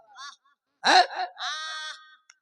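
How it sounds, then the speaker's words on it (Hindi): A woman cries and wails in short, broken sobbing bursts, a moaning cry with a sharp catch between sobs, up close and alone. "ये किसी नारी के रोने की आवाज है"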